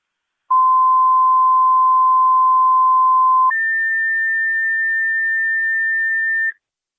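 Niagara County Fire Control sends fire dispatch paging tones on a scanner stream: a loud, pure steady tone for about three seconds, then a higher steady tone for another three, alone on a silent channel.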